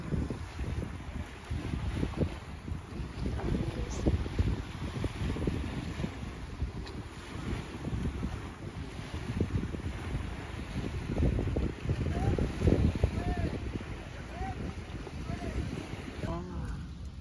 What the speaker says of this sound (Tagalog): Sarap pakinggan yung alon.